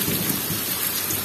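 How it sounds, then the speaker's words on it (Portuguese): Heavy rain on the Pernambuco sertão, a steady dense hiss of rainfall with a low thunder rumble underneath, loud and continuous with no voices. "Agora deu um trovão."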